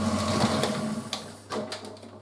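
A Frigidaire FSD28 2800 rpm spin dryer runs with a steady, close motor whine and low hum, with a few sharper clicks and rattles as it spins and winds down.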